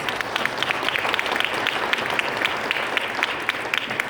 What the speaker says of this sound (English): So join me right now in a round of applause for all of our event sponsors and partners.